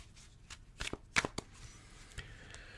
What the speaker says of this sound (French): mélanger les cartes.